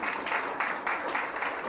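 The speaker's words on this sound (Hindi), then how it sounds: "ज़ोरदार तालियां बजाएं" Audience applause at a Christian sermon gathering: a dense, steady wash of clapping from a crowd, with sustained even loudness, heard alone without talk.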